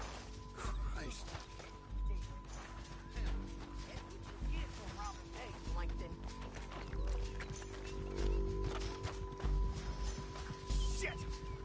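Steady rhythmic hoofbeats of galloping horses thud beneath busy game sounds and voices, a regular clip-clop pulse running throughout.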